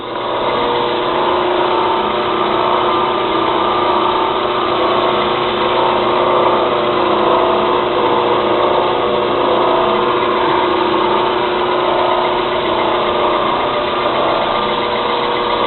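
A running belt grinder with a wobbling belt gives a loud, steady motor hum and mechanical whir with a faint rhythmic knock, continuous and close, no talking.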